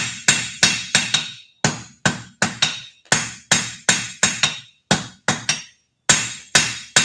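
A smith's hammer rings on a forge weld held tight over the edge of an anvil. Sharp, loud metallic blows land in quick clusters of three or four, with short pauses between groups, about two dozen strikes in all.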